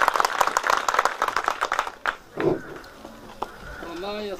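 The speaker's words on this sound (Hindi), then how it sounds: "जोरदार ताली एक बार फिर से" Loud, dense clapping from an audience at a school debate competition rings out for about two seconds, then fades into scattered claps and a murmur as a voice begins speaking.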